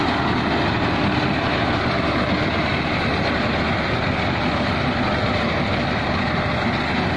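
Mahindra Arjun 555 DI tractor engine running without load, a steady, loud diesel drone close by with an even low rumble and no change in pace throughout.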